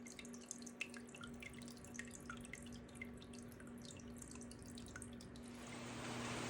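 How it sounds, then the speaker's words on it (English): A small solar-powered homemade water fountain trickles and drips continuously, light splashes and droplets at an uneven rhythm over a faint steady hum, quiet and close with no talking. "So here is my DIY water fountain all set up."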